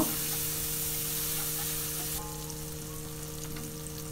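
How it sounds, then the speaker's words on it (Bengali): Onion and garlic paste frying in a pan for a Bangladeshi fish curry with bottle gourd, giving a steady, moderate sizzle with a constant hum beneath, softening slightly partway through. "রসুন বাটাটা দিয়ে আমি একটু এই রসুন বাটাটা পেঁয়াজের মধ্যে ভেজে নেব"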